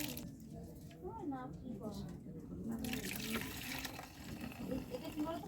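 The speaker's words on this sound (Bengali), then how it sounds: "এবার এই দুধটা এর মধ্যে ঢেলে দেবো।" Milk poured from a vessel into a bowl holding a little mixed-in yogurt, a soft steady liquid stream in a home kitchen, with someone talking over it.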